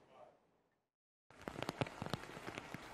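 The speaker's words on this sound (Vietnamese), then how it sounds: "bão Talim đã đổ bộ vào tỉnh Kagoshima ở Tây Nam Nhật Bản, gây mưa to gió lớn" Heavy rain and strong wind from Typhoon Talim striking Kagoshima in southwestern Japan, a dense, steady hiss with sharper splashes, beginning abruptly after a faint, fading lead-in and a moment of silence.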